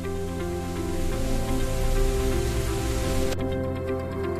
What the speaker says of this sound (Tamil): ஒரு நாள் மழைக்காலம் வந்தது.